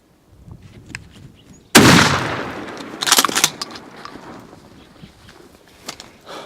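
A single loud gunshot while hunting in New Mexico, a sharp close crack with a trailing rumble, followed by quieter rustling and footsteps outdoors.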